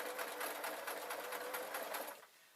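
Close up, a domestic sewing machine sews a knitting needle roll, running steadily over a thick lump of layered fabric with a rapid, even needle rhythm before slowing toward the end.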